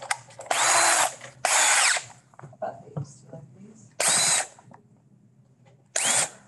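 A power drill bores a hole for a marker in bursts of loud, high whirring, four separate runs of about a second each, with a person speaking between them.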